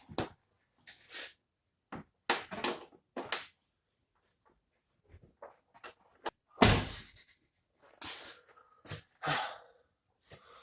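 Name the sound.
Volvo 760 car door being opened and closed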